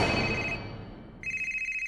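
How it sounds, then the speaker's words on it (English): A cell phone rings in a cartoon scene, a steady electronic ringtone pulsing repeatedly after a fading noisy passage, loud and close. "There's the cell phone, Phantom."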